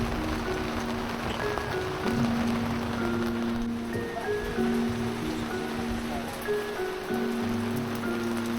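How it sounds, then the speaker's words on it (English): Steady rain patters on a van roof overhead at night, an even hiss that carries on without a break, with a faint tonal hum underneath. "A bit of rain on the van's actually quite nice at night time."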